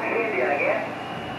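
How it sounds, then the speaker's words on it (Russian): Radio interference whining through a receiver's filter near the edge of its passband, a steady band of hiss and tonal noise with wavering tones, continuous and fairly loud with no talk over it. "2900 мы слышим помеху."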